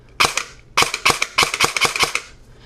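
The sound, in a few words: airsoft gun firing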